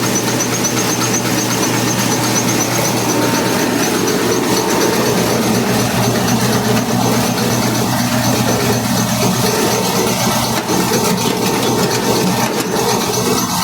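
A Shin Nong rice mill machine runs in a Manila showroom, giving off a loud, continuous mechanical roar with rattling and grinding texture throughout.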